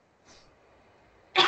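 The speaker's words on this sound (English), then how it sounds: "You are not allowed to cough." A single sharp, fairly loud cough bursts out at the end after a stretch of faint background noise.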